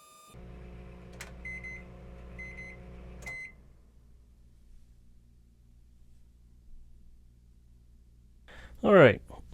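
A microwave oven melting glass hums steadily for about three seconds with a few short electronic beeps, then cuts off, leaving a faint low hum and a brief voice near the end.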